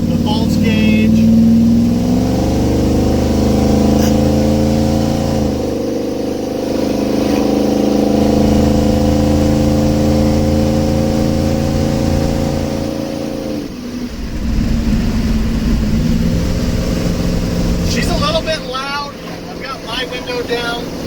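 A 1971 Chevy C10 pickup truck cruising down the road, its engine droning steadily with gear changes and shifts in pitch, wind buffeting the microphone and road noise throughout.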